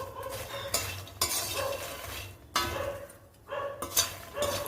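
Close-up stirring of fox nuts roasting in a pan: repeated scraping strokes with dry, light pieces rattling and shifting against the metal, pausing briefly between passes.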